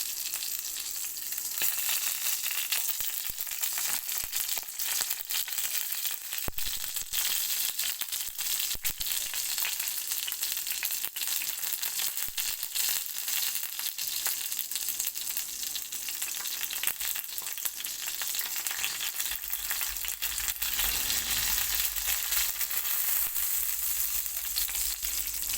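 Food for a home-cooked dinner dish sizzles steadily in a hot pan, a continuous crackling hiss with occasional stirring scrapes and no talking.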